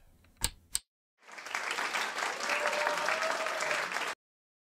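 A button-triggered applause sound effect plays as a burst of crowd clapping that swells and holds for about three seconds, then cuts off abruptly, following two sharp clicks.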